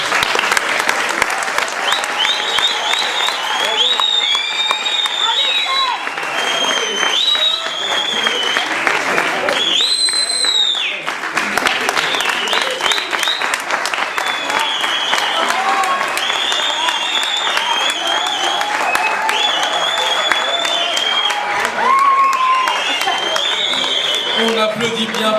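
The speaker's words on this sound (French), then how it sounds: "On applaudit bien fort le projet Croisement." An audience at a French literary reading claps in loud, sustained applause lasting the whole stretch, dense and even, with brief cheers and voices mixed in.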